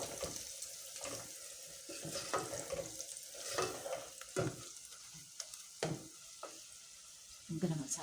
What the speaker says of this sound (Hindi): इसको चला लेते हैं।